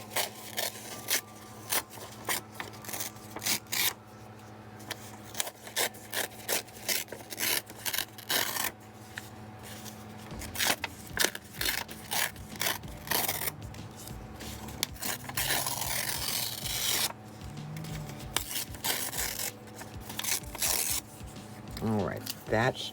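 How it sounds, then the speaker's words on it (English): Paper torn by hand for mixed media collage, with rasping, ripping bursts in irregular strokes, close and moderately quiet, under occasional talk. "So I'm just going to tear another one here."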